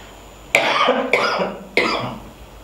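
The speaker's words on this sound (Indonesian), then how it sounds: "Aduh, batuk." A person coughs three times in quick succession, each sharp burst close and loud, with roughly half a second between them.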